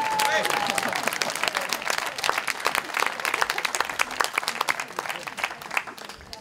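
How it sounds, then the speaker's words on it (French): Audience applause at a French comedy sketch and quiz show, a dense wash of many clapping hands sustained at fairly even loudness throughout, with a faint voice briefly underneath at the start. "Applaudissez pour vous-même."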